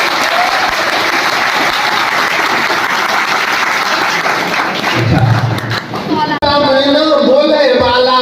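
Loud audience clapping in a classroom-style gathering at an English coaching centre, a thick sustained burst that thins briefly before a voice begins speaking over the last few seconds.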